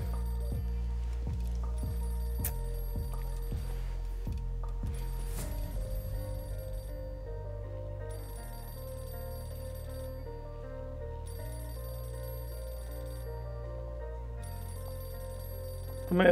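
In Mafia 2, an old telephone bell rings in several evenly spaced rings, followed by a sustained, steady musical background from the game that runs on to the end, with no talking.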